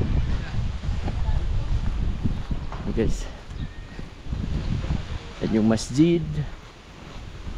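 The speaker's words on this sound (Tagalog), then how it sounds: "Sobrang hangin dito ngayon guys." Strong wind buffets the microphone in a continuous low roar through the whole stretch in a coastal village in Tongusong, Sitangkai, Tawi-Tawi as rain approaches, while someone speaks over it.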